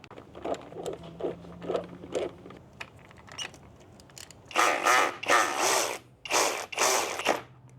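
A ratchet wrench clicks in short bursts while bolts are undone in a car's engine bay during an oil catch can install, first a quick series of light ticks, then several louder, longer ratcheting runs close by with no talking.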